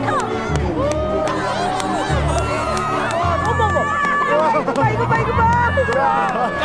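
A crowd of people shouting, whooping and cheering with excitement under the aurora, overlapping voices and loud cries close by.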